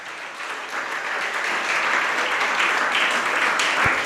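An audience at a Jain monk's sermon in Itarsi claps together, a dense, even wash of applause that swells slightly and holds steady for a few seconds.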